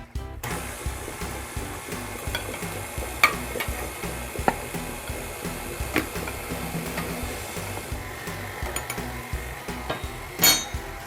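Flour, baking powder and allspice being stirred into wet cookie dough in a bowl, a steady scraping, stirring texture with occasional light clinks of the utensil against the bowl, with no talking.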